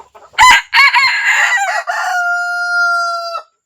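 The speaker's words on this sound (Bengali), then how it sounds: "এটা হচ্ছে একটা জাপানিজ ব্যান্টম, জাপানিজ।" A small Japanese bantam rooster crows once, loud and close: a broken start followed by a long, steady, held note that ends sharply, with no talking.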